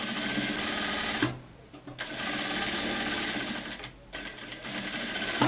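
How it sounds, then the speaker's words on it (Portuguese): Sewing machine stitching a raglan-sleeve coat, running loud and steady with two short pauses between continuous bursts of stitching. "Eu vou costurar aqui, mas depois eu vou passar a overlock"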